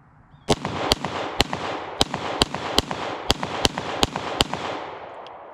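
Ruger 57 pistol fired in a steady string of about ten sharp, loud shots roughly half a second apart, each with a ringing echo trailing off, then a quiet tail.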